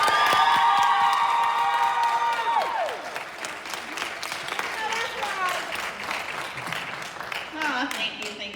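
Audience at a Black History Month program applauds and cheers to welcome a speaker, loud clapping with high whoops and shouts, and a sustained vocal cheer at the start that gives way to continuing applause and scattered voices.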